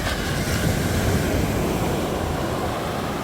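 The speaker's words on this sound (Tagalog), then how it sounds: "Grabing alon na yan." Ocean waves with big swells near Calagwas Island, a steady loud rushing roar of surf and wind with no breaks, heard close from out on the water.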